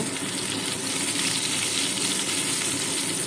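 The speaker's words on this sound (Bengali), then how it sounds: "দেখুন, খুব সুন্দরভাবে পটলগুলো ভাজা হয়ে গেছে।" Pieces of pointed gourd (potol) fry in hot oil in a pan, giving a steady, dense sizzling hiss that stays loud and even throughout with no talking.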